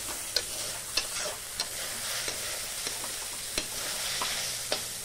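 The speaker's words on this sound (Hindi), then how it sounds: "मशरूम यहाँ पर अच्छे से फ्राई हो चुके हैं।" Mushrooms fry in a pan with a soft, even sizzle, broken by faint, sporadic scrapes and taps of a spatula stirring.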